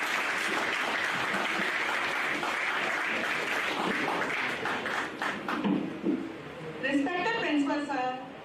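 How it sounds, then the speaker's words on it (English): Audience at a medical college anatomy event applauding, sustained loud clapping filling the hall for several seconds before tapering as voices rise at the end. "Please applaud."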